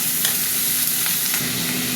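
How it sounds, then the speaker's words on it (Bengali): Vegetables frying in a pan with salt, turmeric and chilli powder to follow, giving a steady close sizzle and crackle for the whole stretch, stirred now and then, with no voices. "সবজি একটু ভাজা ভাজা হবে"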